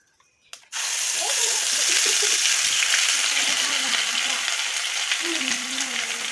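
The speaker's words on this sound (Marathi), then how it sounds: "तर आपलं तेल गरम झालेलं आहे यात आपण टाकून घेऊया" Onion and coconut masala dropped into hot oil breaks into a sudden loud sizzle that holds steady and strong, with a few faint stirring scrapes underneath.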